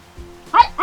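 A dog in a Garhwali hill village gives two quick barks close by, a single yip followed by another bark at the very end, with faint murmuring beforehand.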